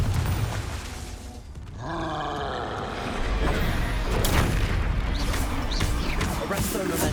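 A Confringo fire-blast spell cast in Hogwarts Legacy lets out loud, roaring whooshes and rumbling bursts. They build in waves over dense combat effects.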